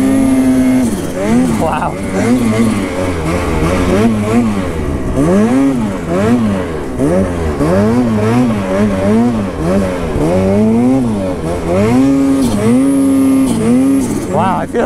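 A 175 Turbo vehicle engine, likely a turbocharged snowmobile, revs up and down repeatedly while being ridden, loud and close, with the pitch rising and falling in waves. A rider briefly exclaims over the engine.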